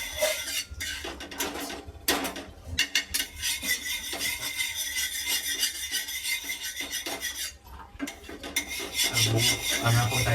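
Butter is spread across a hot tawa for toasting sandwiches, making a continuous rasping, scraping rub with occasional light metallic clinks of a utensil against the pan, close and fairly loud, with no talking.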